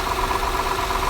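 A 2008 Honda Accord V6 engine idles close up with a valve rattling fault, giving a steady mid-pitched hum with a fine, even rattle running through it.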